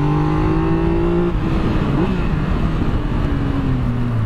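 A 2017 Triumph Explorer XCx motorcycle engine revs hard, pitch sweeping up and down with strong harmonics, loud and close, with a throaty roar continuing throughout.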